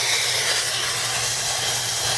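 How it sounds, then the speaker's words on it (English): A Vapor VX5000 steam cleaner gives off a loud, close, continuous hiss of escaping steam, steady and unbroken from start to finish with a faint low hum beneath. "See how when I turn it on, the pressure immediately drops, but it's actually producing steam."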